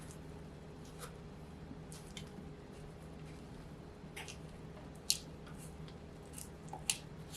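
Soft, intermittent scraping and squishing of a spatula against the sides of a mixing bowl of gingerbread cake batter, close and quiet, with a couple of sharper clicks.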